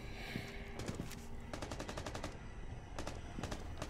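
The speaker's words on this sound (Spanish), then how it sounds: "Están disparando desde fuera, men." Gunfire from outside in the video game Rainbow Six Siege: bursts of rapid automatic shots and scattered single cracks, somewhat muffled and distant, coming in several volleys.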